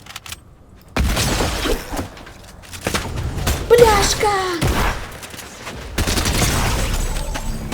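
Gunfire in the video game Fortnite: several loud bursts of shots and booms spread across the span, with a voice shouting briefly amid the firing.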